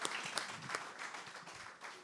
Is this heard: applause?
yes